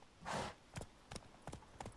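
Horse hooves in The Witcher 3: Wild Hunt clip-clop in a quick, steady rhythm, faint and clear, after a short soft whoosh at the start.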